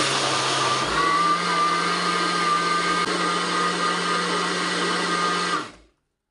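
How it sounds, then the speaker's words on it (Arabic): A blender blending strawberries with hibiscus and water whirs loudly and steadily for several seconds, its motor droning evenly before cutting off abruptly into silence. "وهضربهم بقى حبايبي في الخلاط."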